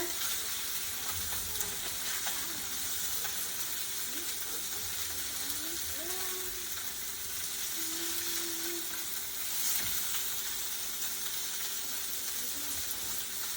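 Salmon pan-searing in a hot pan, a steady broadband sizzle that holds evenly throughout at moderate volume, with faint background noises and no talking.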